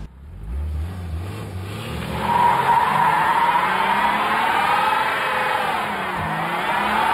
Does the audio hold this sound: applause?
no